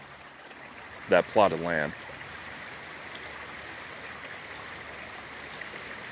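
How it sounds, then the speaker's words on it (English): A creek flows steadily nearby as a constant, even wash of water noise, with someone speaking briefly over it before the rushing continues alone. "Got a water source right there, creek, well, two creeks right here"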